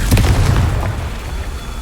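A Confringo blasting spell goes off in the Hogwarts Legacy video game, a loud, deep booming burst that hits at once and rumbles away over about two seconds.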